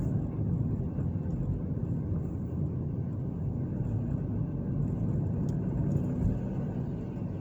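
A car rolls down Indiana Avenue in New Castle, Indiana, heard from inside as a steady, low engine and road rumble that stays even throughout, with no talk.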